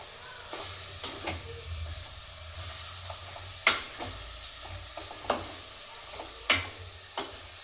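Chicken pieces with salt stirred in a hot pan, a soft continuous sizzle broken by sharp scraping and clinking strokes of a spoon against the pan, fairly quiet with no talking.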